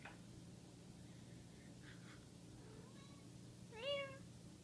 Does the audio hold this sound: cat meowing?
yes